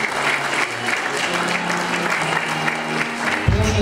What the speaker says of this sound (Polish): Brawa jeszcze raz, brawa.